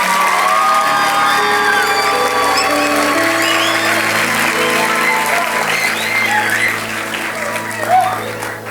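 Youth congregation at a church youth service bursting into loud, sustained applause and cheering, a dense wall of clapping with whoops and shouts that holds steady for several seconds before easing slightly.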